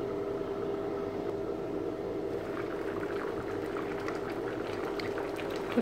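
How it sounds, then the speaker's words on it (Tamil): A pot of water with brinjal, drumstick and potato simmering and bubbling steadily, a soft continuous gurgle with small pops throughout, no voices. "காய் நல்லா வேகிற அளவு கொதிக்க விடணும்."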